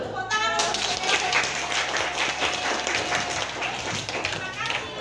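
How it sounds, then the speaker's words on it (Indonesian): Children clap their hands together in a dense, continuous patter of many small claps, loud and close, with voices mixed in throughout. "Tepuk tangan untuk kita"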